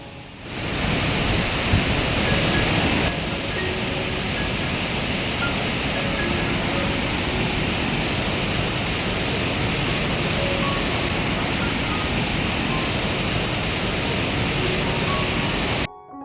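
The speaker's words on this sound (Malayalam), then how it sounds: "മഴ സീസൺ ആയതുകൊണ്ട് നല്ലതുപോലെ അടിയൊഴുക്കുള്ള നല്ല അടിപൊളിയായിട്ട് വെള്ളം കുത്തി ഒഴുകുന്നുണ്ട്" Strong rushing water flows through a tunnel during the rainy season in Vagamon, a steady broadband roar that holds constant and loud from start to finish with no voices.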